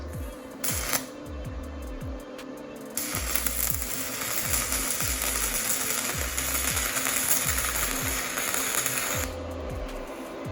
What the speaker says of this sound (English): we're going to try to weld this 3/16 inch plate